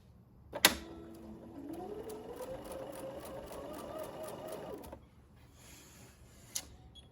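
After a sharp click, a sewing machine with its dual feed engaged and a D foot fitted stitches for about four seconds. Its close whirring motor rises slightly in pitch, then stops, followed by another click.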